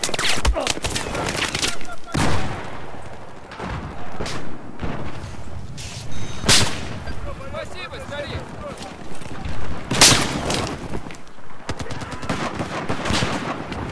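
Gunfire erupts in Battlefield 4 close-quarters combat in Operation Locker, with sharp shots and bursts scattered irregularly throughout while a player talks over them.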